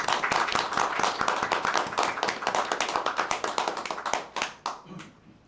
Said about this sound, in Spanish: Así que pido un aplauso para Radio Mundo.